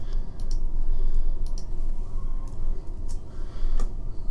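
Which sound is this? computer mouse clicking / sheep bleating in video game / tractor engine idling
computer mouse clicking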